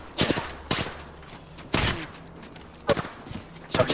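Apex Legends gunfire comes as short sharp bursts spaced through the clip, a few rapid shots, then quiet gaps, then more cracks, moderately loud against a low game background.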